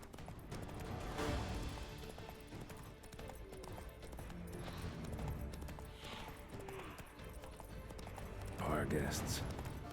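Roach, a horse in The Witcher 3 video game, trots with a steady clip-clop of hooves beneath game music and ambient effects, the footfalls moderately loud and continuous throughout.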